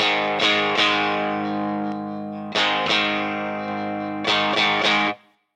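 An electric guitar through a pedal with boost and distortion rings out in three strummed chord groups, each thick, sustained and saturated, then cuts off sharply at the end.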